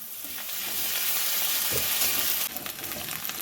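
Garlic paste and already fried onions sizzle steadily in hot oil, a dense near hiss, with a brief stir or scrape partway and the frying noise dropping slightly near the end; no voices.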